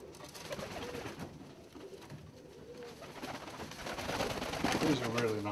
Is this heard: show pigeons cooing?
yes